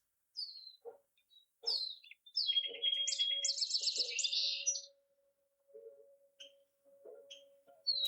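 Small birds chirp and tweet at a little bird fountain shown on cat TV, bright calls in bursts with a rapid trilling run in the middle, over a faint steady hum, no talking.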